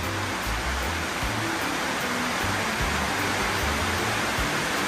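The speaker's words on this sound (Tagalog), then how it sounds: "Ulan pa nga." Steady rain falls around a parked Honda Jazz GE during a weatherstrip installation, a dense unbroken hiss with low patter filling the whole stretch.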